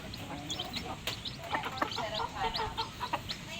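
A farmyard hen with seven newly hatched chicks clucks in short, repeated calls, with faint peeping and a few soft voices in the background.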